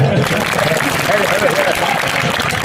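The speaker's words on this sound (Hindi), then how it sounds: "क्या बात है तो थोड़ी तालियां बजाओ।" A crowd claps at a Hindi poetry gathering (kavi sammelan), a loud continuous patter of applause with a voice speaking over it.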